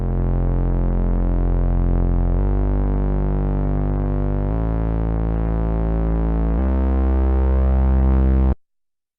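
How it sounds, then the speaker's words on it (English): A continuous synthesizer tone, played through an audio interface, drones for about eight seconds, stepping through several pitch changes, then cuts off abruptly into silence. "the sound you're hearing there is the sound of a synthesizer being plugged into my audio interface"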